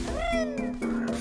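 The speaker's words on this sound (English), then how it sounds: "These things sound like cats." Cat-like creatures in the Banjo-Tooie video game give two drawn-out, wavering meows in quick succession, clear and close against a soft, steady background hum.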